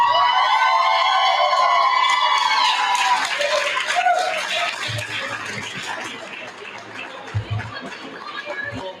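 An election night crowd claps and cheers for the Jamestown mayor-elect, loud at first and then thinning as whoops and voices carry over the fading applause.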